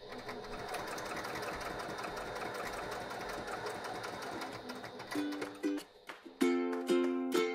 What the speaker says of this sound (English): I'm going to top stitch down these long edges with an 1/8 inch seam allowance.